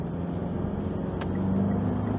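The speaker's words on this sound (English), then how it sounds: "you can still hear the diesel engine" A steady low diesel engine drone heard from inside a moving 2022 Mitsubishi Strada pickup truck, constant and muffled, with a faint brief click partway through.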